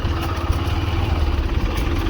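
A motorcycle ridden along a farm track behind another rider, heard as a steady, continuous mid-pitched engine drone with light clatter and no change in pace over a short stretch.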